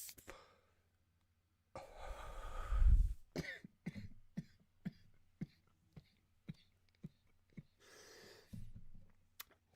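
A burst of harsh coughing, then a string of short, sharp coughs spaced about half a second apart, ending with another raspy cough, close and loud.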